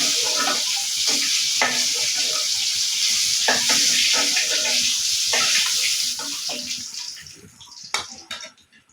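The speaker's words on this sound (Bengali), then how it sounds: "মাছগুলি আমার ভাজা হয়ে গেছে। এখন আমি মাছগুলো তুলে নেব।" Fish frying in hot oil in a home kitchen pan, a dense steady sizzle with scattered pops and crackles that thins and fades over the last few seconds as the pieces are lifted out.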